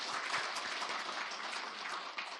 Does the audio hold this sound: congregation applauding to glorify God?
yes